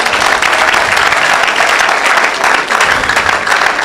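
A church congregation at a charismatic healing and deliverance service breaks into loud, sustained applause, dense continuous clapping with crowd noise filling the whole stretch, steady and close.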